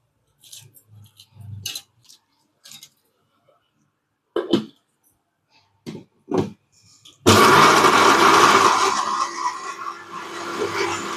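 A mixer grinder whirs loudly and steadily as it powders leftover motichur laddu mixture, starting abruptly after a few scattered light clicks and knocks.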